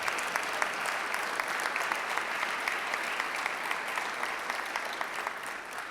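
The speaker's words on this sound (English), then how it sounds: "Please give him a round of applause for that." An audience at a Rotary meeting claps steadily through the whole stretch, a dense, even roar of many hands heard at moderate distance, with no speech over it.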